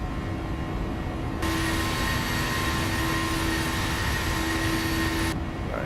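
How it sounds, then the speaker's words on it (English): Boeing 737NG landing gear retracting in the PMDG flight simulator, a steady mechanical hum and hiss that swells for about four seconds over constant cockpit engine drone, then drops back. "Positive rate of climb, gear up."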